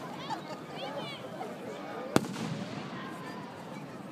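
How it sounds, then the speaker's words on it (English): Fireworks burst close by, one sharp loud bang near the middle standing out over steady crowd babble and a background crackle of more distant explosions. "this is as close as I've ever sat to fireworks"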